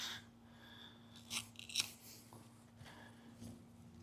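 A Worktuff Gear Asset knife push-cuts fire-starting material in a few quiet, crisp slicing and snipping strokes over a low steady hum, close but faint, with no speech.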